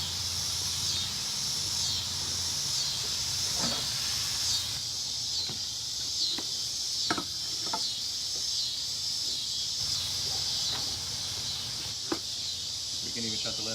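Cheesesteak veggies topped with provolone sizzle and steam on a Big Green Egg grill, a steady broadband hiss with scattered soft crackles and pops, fairly quiet and continuous throughout.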